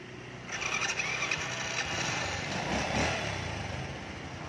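A 2005 Honda Future II motorcycle engine starts up and settles into a smooth, steady idle, close and moderately loud, with no talking.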